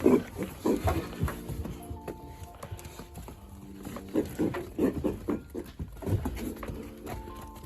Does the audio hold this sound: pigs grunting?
yes